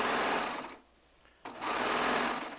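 A serger overlock sewing machine stitches fabric together for a jelly roll quilt, its fast close mechanical whir running steadily, pausing briefly for about half a second, then resuming.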